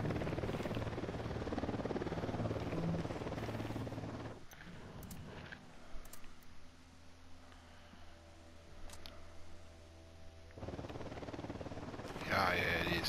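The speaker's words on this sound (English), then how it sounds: "Helicopter coming, but I don't see it." A helicopter approaches in the video game Ghost Recon, a steady rotor thrum and whir that fills the scene, dropping back partway through and then swelling again, with players talking over it.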